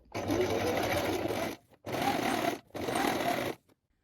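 A domestic sewing machine stitching elastic onto a trouser waistband runs in three sustained bursts separated by short pauses, a loud close mechanical whirr with a dense rapid needle rhythm.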